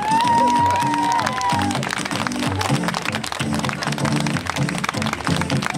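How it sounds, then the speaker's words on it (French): Applause and cheering from the audience at a Miss Île de Noirmoutier beauty pageant, clapping and crowd noise over a loud pulsing music track, with a brief tonal whistle or cheer early on. "Applaudissements pour Orlane Thibault."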